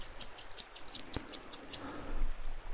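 Quick, crisp snips of scissors repeat in a steady rhythm, close by, with a faint rustle underneath and no talking.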